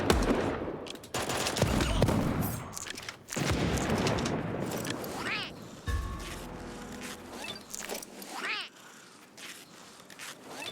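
Super Animal Royale game gunfire crackles in rapid bursts mixed with cartoonish animal cries and other busy game effects, all dense and continuous at a moderate level.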